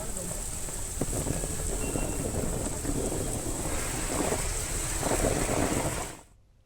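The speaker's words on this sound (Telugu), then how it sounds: "హైదరాబాద్లో మరోసారి వర్షం దంచుకొట్టింది" Heavy rain pouring over Hyderabad, a dense steady roar of rainfall close by with a low rumble beneath it, cutting off abruptly at the end.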